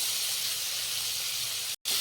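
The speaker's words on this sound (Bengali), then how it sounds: "হালকা করে ভেজে নেবো, খুব বেশি লাল লাল করে ভাজবো না, তাহলে চিংড়ি মাছ শক্ত হয়ে যাবে।" Prawns fry lightly in hot oil in a wok with a steady, close, even sizzling hiss that cuts out abruptly for a moment near the end.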